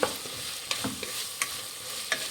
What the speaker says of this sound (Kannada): ಆಲೂಗಡ್ಡೆನೂ ಚೆನ್ನಾಗಿ ಫ್ರೈ ಆಗಿದೆ